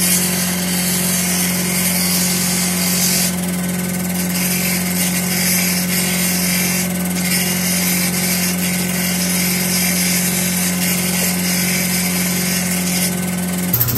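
A turquoise stone is ground against a spinning cutting wheel, giving a continuous close grinding whine with a steady motor hum beneath it and faint scraping swells as the stone is moved around.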